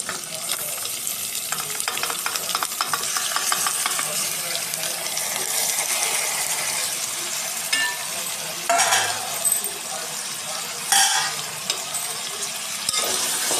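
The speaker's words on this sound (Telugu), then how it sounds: "ఇంకా ఈ ఆయిల్లో బాగా మగ్గాలండి కూరగాయ ముక్కలు." Cucumber pieces cut into large lengthwise chunks fry in oil with a steady, close sizzle while a spoon scrapes and stirs them. Sharper clinks of the utensil against the pan break through near the end.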